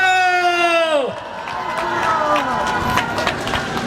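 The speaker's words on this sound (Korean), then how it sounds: "여러분, 제자를 위해서 박수를 한번 쳐주십시다." Crowd cheering and applause swell at a Korean public-broadcasting union rally, a loud, sustained roar of voices and clapping that follows a sung or drawn-out tone cut short.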